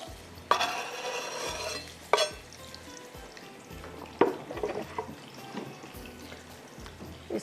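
Onions hitting a hot pan for mutton masala gravy give a continuous sizzle, with a few sharp clattering stirs and scrapes of a spoon at intervals, close and fairly loud.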